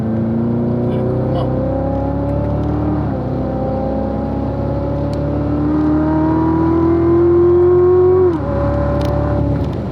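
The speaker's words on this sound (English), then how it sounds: "Brake straight, downshift. Light brakes into the corner." Race car engine on a circuit revving in rising, stepped pitch sweeps as it shifts through gears, dropping sharply once and then climbing again, loud and up close, with a voice speaking over it briefly.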